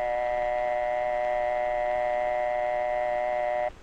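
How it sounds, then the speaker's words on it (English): A 1940s telephone receiver plays a dial tone: a steady, unbroken electric hum held at even loudness for several seconds, alone, then cut off abruptly. "It's the hum you hear in the receiver"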